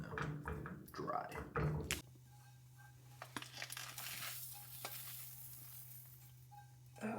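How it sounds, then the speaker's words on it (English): Eggs cooking in a pan, stirred continuously, with a faint soft sizzle and light scrapes and taps of a utensil against the pan, after a louder burst of clattering and handling at the start. "Your eggs are cooking."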